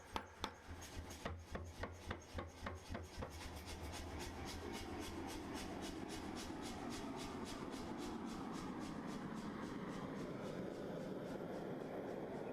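Power hammer pounding hot carbon steel at a forge, a fast run of loud, evenly spaced blows over the first few seconds that stops, leaving a steady roaring hiss of the burner alone.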